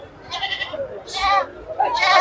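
Goats bleat in loud, close, drawn-out calls at a busy Saturday livestock market in Ettayapuram, Thoothukudi district, three cries overlapping with murmured talk nearby.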